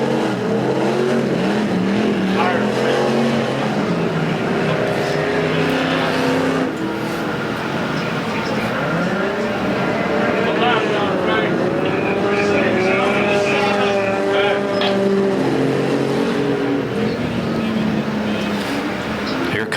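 Enduro race cars at Perris Auto Speedway roar continuously around the track, and their engine pitch rises and falls as they pass. An announcer commentates over the steady, loud motor noise.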